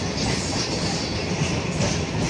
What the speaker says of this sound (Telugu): Kachiguda to Nadukuda junction passenger train అన్నమాట